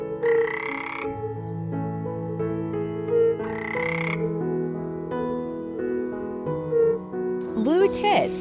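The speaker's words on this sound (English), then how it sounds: "European fire-bellied toad." European fire-bellied toad croaks as soft, repeated tonal notes in spaced, even pulses, heard close over a sustained musical backdrop.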